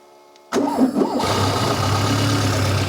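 Formula Konig race car engine cranked over on an extra battery, firing up abruptly after a near-silent moment and settling into a loud, steady, rough idle close by.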